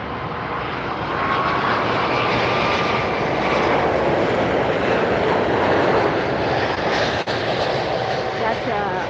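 An unmarked cargo airplane arriving at Miami airport roars loud and close, a steady broadband jet rumble that swells and holds across the whole span with a slight dip near the end.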